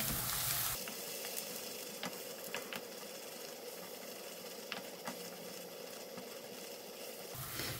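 Steady, close sizzling of fish roe frying in a pan with turmeric, with occasional scraping clicks of stirring throughout; no voices.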